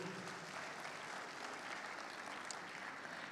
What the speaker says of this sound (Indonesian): beri tepukan pada kawan sebelahmu